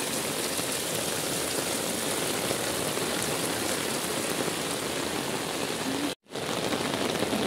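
Heavy rain falling steadily near a school, a dense constant patter on surfaces, close and loud, broken by a brief cut before it resumes.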